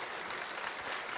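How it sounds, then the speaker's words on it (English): Crowd at a live podcast recording applauding, a brief burst of continuous, dense clapping at even loudness with no pauses. "It was a round of applause for those two."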